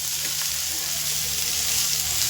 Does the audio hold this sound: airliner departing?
no